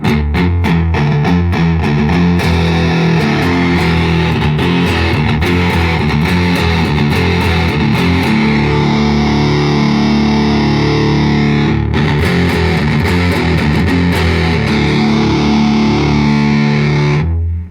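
An electric guitar plays through a Blackout Effectors Twosome pedal with the preamp turned up, loud, heavily distorted chords and riffs strummed continuously up close, alone without talk.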